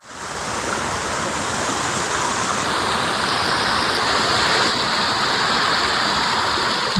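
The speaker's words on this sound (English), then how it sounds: "I'm going to cut the mic so you can hear the raw industrial roar of the water." Loud, steady roar of rushing water at an industrial site, broadband and unbroken, near and overwhelming with no voices.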